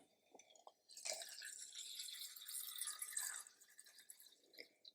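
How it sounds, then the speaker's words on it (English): Water being poured into the enclosure of a Chilobrachys huahini, an Asian Fawn tarantula, makes a soft, steady stream that runs for a couple of seconds, framed by faint drips and small handling noises. "We're going to add our water."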